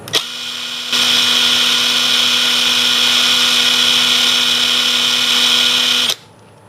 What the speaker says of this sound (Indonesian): Sekarang kita akan uji RPM-nya.